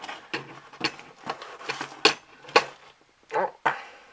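Small metal clicks and ratcheting taps from a bolt being screwed onto a Cane Creek Thudbuster LT suspension seatpost, a series of short close-up knocks and scrapes with brief pauses between them.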